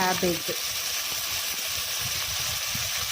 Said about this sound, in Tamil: ப்ரௌன் கலரில் வர வரைக்கும் நல்லா வதக்குங்க.